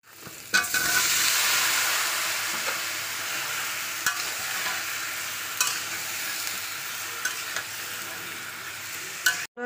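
Tomatoes stirred in a pan with turmeric, chili, salt, ginger and garlic paste, giving a soft continuous sizzle broken by sharp scraping taps of the spatula, close and fairly quiet, with no talking.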